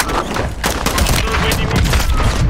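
Rapid bursts of gunfire in Call of Duty: Warzone 2.0 crackle and thump continuously, dense and loud, with voices speaking faintly underneath.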